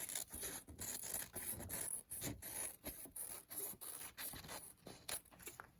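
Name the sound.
scissors cutting out fabric for a face mask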